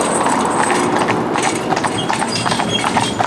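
Hooves of a pair of Friesian horses driven in harness clip-clop steadily on the ground, a close, rhythmic patter of overlapping hoofbeats.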